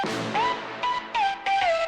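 Sharp claps keep the rhythm in a hard-hitting boy group style track, a punchy pattern of short hits running under gliding synth lead notes.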